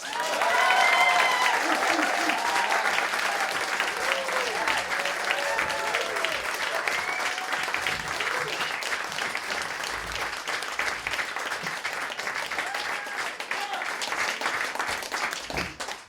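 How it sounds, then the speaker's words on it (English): A studio audience at the Leon Loft welcomes an acoustic band with loud, sustained applause, dense clapping mixed with cheers and whoops that holds steady throughout. "Wow, that was a very thunderous applause."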